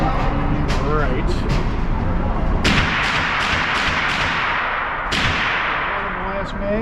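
Staccato pistol shots at an outdoor range crack out one at a time at uneven intervals, loud and close, each with a short echoing tail, and a voice is heard faintly between them.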